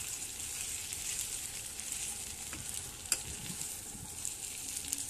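Colocasia pieces coated with chili powder fry in a pan with a soft, even sizzle, and a few faint scrapes and taps come from stirring.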